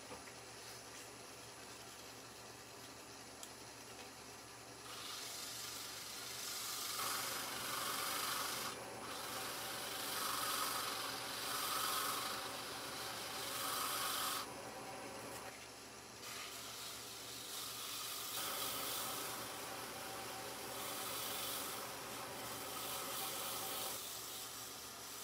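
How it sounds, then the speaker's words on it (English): Sandpaper rubbing against a spinning wooden Christmas tree bird box on a wood lathe, a steady rasping hiss that swells and fades in several long passes over the low hum of the running machine. "A little bit of sanding a minute,"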